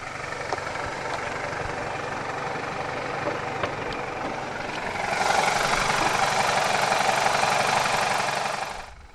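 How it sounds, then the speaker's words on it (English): A 2005 BMW 320i's naturally aspirated 2-litre N46B20 inline-4 petrol engine, dual overhead cams and 16 valves, idles with a steady busy hum that turns noticeably louder and brighter partway through. "The 320i is powered by BMW's N46B20 2-litre, dual overhead cams, 16 valves, naturally aspirated inline-4 petrol engine"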